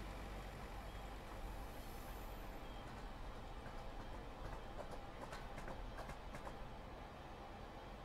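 A train in the Voxel Tycoon video game rolls steadily along the rails with a low continuous rumble and faint clacks, heard quietly and alone throughout.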